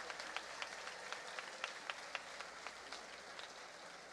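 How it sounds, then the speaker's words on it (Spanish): Faint applause from an audience at a scholarship ceremony, scattered claps in an irregular patter, distant and quiet with no voices. "fuerte el aplauso para todas y todos ustedes"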